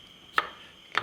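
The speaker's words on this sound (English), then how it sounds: "I have 3 cloves of garlic that I'm going to crush." Garlic cloves crushed with a kitchen knife on a board: two sharp, close knocks about half a second apart, with quiet between them.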